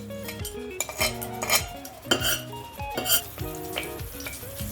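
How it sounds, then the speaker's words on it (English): Cardamom and cinnamon fry in oil in a pan while a metal spoon stirs and scrapes, producing a steady sizzle with clanking spoon strikes against the pan, close and moderately loud. "Add 4 tablespoons of oil. Add cardamom and cinnamon."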